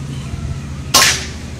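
A Benyamin Bulldog air rifle fires one sharp, snappy shot that fades away quickly. A faint low hum sits under it.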